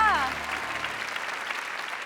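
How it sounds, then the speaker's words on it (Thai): Studio audience applause for a contestant on a Thai code-breaking game show, a steady broad wash of clapping that follows the tail of a host's voice and carries on evenly to the end. "ขอเสียงปรบมือดังให้กับคุณจันครับ"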